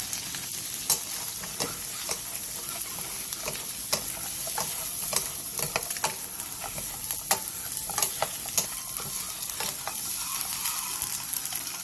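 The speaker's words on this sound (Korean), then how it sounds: "팬에 참기름 1스푼을 두른 뒤 삶은 계란 5개와 꽈리고추를 넣고 센 불에서 1, 2분 정도 볶아주세요" Boiled eggs and shishito peppers stir-frying in sesame oil over high heat, a constant close sizzle punctuated by frequent sharp pops and spatula clicks, with no talking.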